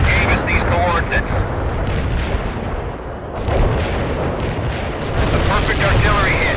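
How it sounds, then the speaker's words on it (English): Heavy artillery strike explosions and rumbling barrages in the strategy game World in Conflict, loud and continuous with repeated booms and crackling debris, a voice heard faintly under the blasts. "A perfect artillery hit."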